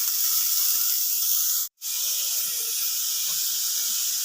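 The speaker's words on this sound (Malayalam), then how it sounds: "കടുക് പൊട്ടിയിട്ടുണ്ട് അതിലേക്ക് ബീറ്റ്റൂട്ട് തോരനുള്ള ചേരുവകൾ ഇട്ട് കൊടുക്കും" Ingredients for Kerala-style beetroot thoran hit hot oil with popped mustard seeds and sizzle loudly. The hiss is steady and close, broken by one brief drop to silence.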